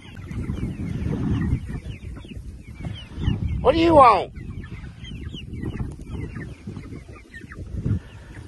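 Chickens cluck and squawk nearby, with one loud call standing out, while a person speaks briefly over the farmyard noise.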